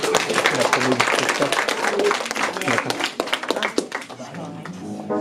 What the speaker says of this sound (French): Allez, on les applaudit, on les encourage